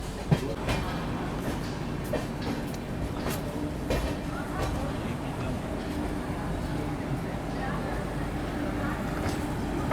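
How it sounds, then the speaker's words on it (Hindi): The Mahabodhi Express rolls into DDU railway station with a steady, moderately loud rumble and clickety-clack of wheels, a few sharper clanks scattered through it. "अभी अपनी ट्रेन पहुंच रही है डीडीयू रेलवे स्टेशन"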